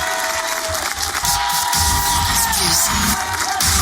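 Studio audience at a live radio broadcast applauds and cheers for a rapper, loud sustained clapping with whoops and a tonal music bed underneath.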